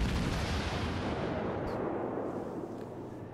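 A ship's cannon salvo in the naval combat game World of Warships: a loud, heavy boom with a rumbling, broadband roar that fades slowly over a few seconds, with no voices.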